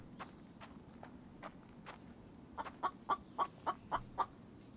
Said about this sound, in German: Ich habe hier noch kein Huhn gesehen, aber ich höre es die ganze Zeit.